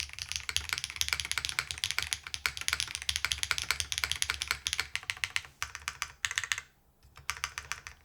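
Rapid mechanical keyboard typing, a dense run of clacky keystrokes close to the mic, with a short pause near the end before typing resumes.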